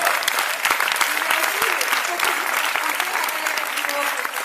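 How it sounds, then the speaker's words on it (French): Sustained applause from a film presentation audience, dense steady clapping filling the room for the whole stretch, with a few voices mixed in. "on l'applaudit aussi et on la remercie"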